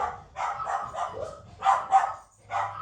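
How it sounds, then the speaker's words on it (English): Several dogs bark in an excited burst of repeated woofs, close and fairly loud, with short pauses between flurries and a low hum underneath. "All the dogs are going to go crazy."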